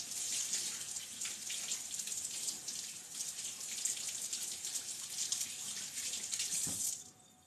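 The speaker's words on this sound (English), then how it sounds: "I'm going to wash my hands real quick" A kitchen tap runs steadily while someone washes their hands, a close, continuous hiss of flowing water for about seven seconds that cuts off abruptly at the end, with no talking.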